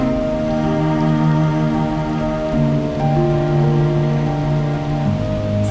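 Rain falls steadily on the ground as a soft, even patter, partly covered by sustained musical tones that change pitch in steps.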